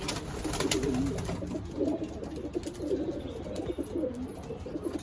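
Young racing pigeons in a loft give low, throaty coos that roll on continuously, with faint chirps and background room noise, close and fairly loud.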